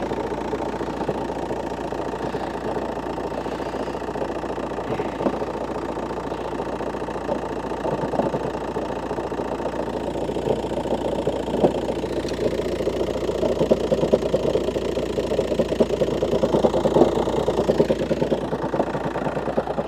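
A Volkswagen Passat engine idles steadily for the whole stretch, a close, even mid-range hum and rumble with faint ticking, in a snowy outdoor setting, with no voices.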